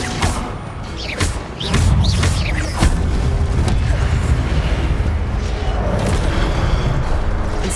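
Incendio fire spells cast repeatedly in the Hogwarts Legacy video game produce sharp whooshing bursts followed by a loud, sustained roaring rumble of flames and booms.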